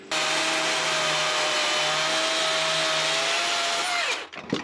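A 60-volt battery chainsaw cutting timber frame beams whines loudly at a constant pitch, then winds down abruptly near the end with a few knocks.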